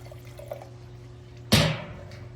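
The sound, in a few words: pouring Portuguese white wine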